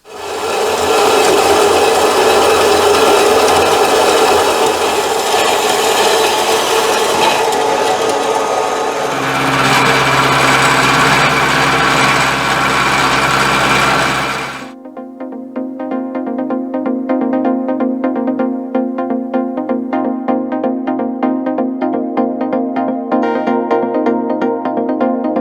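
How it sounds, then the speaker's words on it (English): A milling machine mills metal smooth for a CBN grinder build, a loud continuous grinding rasp that shifts in pitch partway, then gives way near fifteen seconds to a steadier, more tonal machine hum with repeated light cutting ticks. "Well, that was a lot of milling."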